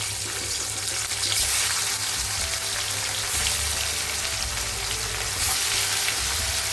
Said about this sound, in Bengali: এখন মাছগুলো আমি ভেজে নেবো এক এক করে